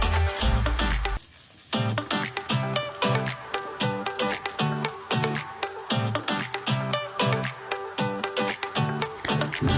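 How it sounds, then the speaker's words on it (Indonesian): Shallots and garlic fry in hot oil in a wok, a loud continuous sizzle broken by regular rhythmic scraping and stirring strokes, close up with no voices. "Pertama-tama tumis bawang merah dan bawang putih sampai coklat."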